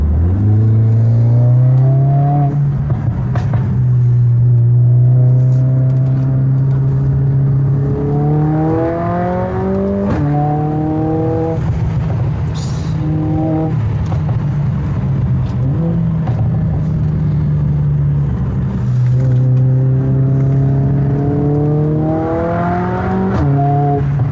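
A Mercedes A45S AMG with an aftermarket exhaust revs repeatedly from a loud, steady idle, each throttle blip rising in pitch and then falling back, close and continuous with no talking.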